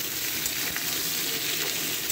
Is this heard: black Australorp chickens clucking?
no